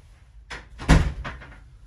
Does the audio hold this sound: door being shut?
yes